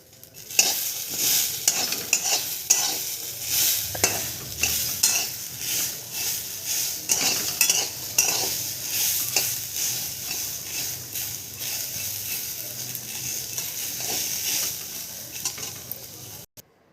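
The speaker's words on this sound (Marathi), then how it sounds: "आपण हे एक वाटी दाणे घेतलेले आहे थोडेसे भाजून घ्यायचे फार नाही भाजायचे" Continuous dry scraping and rustling of moong beans being dry-roasted and stirred in a pan, with steady gritty rattles and faint sizzle throughout, no voices.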